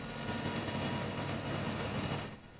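Several 20-cylinder Caterpillar engines of over 2,200 horsepower, driving generators at a landfill gas power plant, give a steady loud broadband roar with a high whine above it, continuous and close, easing off at the very end.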